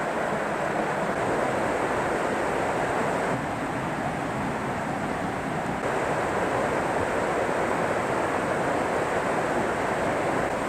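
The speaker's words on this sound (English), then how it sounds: "as soon as we round the corner, all sorts of smaller waterfalls come into view" Rushing water from several small waterfalls, a steady broadband roar that holds at an even level for the whole stretch, with no voices over it.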